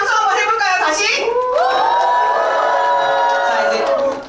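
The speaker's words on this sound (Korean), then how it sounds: "그럼 함성 한번 해볼까요?" A crowd at a rally forum for social-system change lets out a long, loud collective shout, rising voices swelling and holding together before tapering off, with a few whoops and scattered claps.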